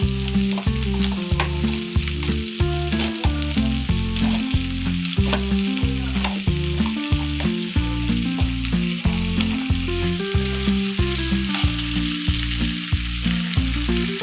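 Whole cardamom, cinnamon and bay leaves fry in hot oil in a pan for a dry-spiced beef dish. A soft, steady sizzle runs throughout, largely under a loud, rhythmic music track.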